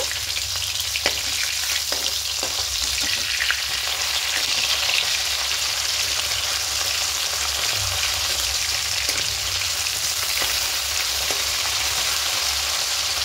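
Pieces of rohu fish fry crisp in hot oil, a loud, close, continuous sizzle dotted with pops and crackles, heard alone without speech.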